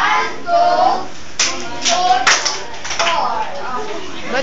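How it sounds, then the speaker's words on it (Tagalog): A group of children and adults clap together in time on a counted beat in a school or staff gathering, with short bursts of clapping mixed under voices. "Palakpak natin yata."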